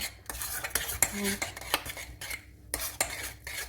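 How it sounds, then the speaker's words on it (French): A spoon scrapes and clinks steadily against a pot while golden milk is stirred over heat, sharp metallic taps repeating in an irregular rhythm, close and fairly quiet. "Faut bien touiller pour que ça n'accroche pas"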